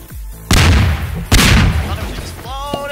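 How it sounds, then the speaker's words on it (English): Two big booming explosions in the Garry's Mod Melon Bomber game, each a sudden loud blast with a rumbling decay, followed by a brief voice at the end. "Lot of explosion."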